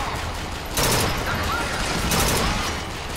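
Gunfire rattles out in two dense bursts in Bioshock Infinite, loud and close, each burst lasting around a second amid a steady game background.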